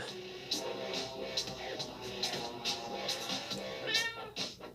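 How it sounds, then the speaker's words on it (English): A cat meows repeatedly in the video game Tokyo Dark Remembrance, several short mews over a steady bed of game music and ambience, moderately loud and clear. "there was the cat"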